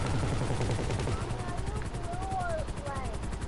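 Gunfire in a video game rattles in rapid bursts over a dense, steady rumble, with other voices mixed in the background throughout.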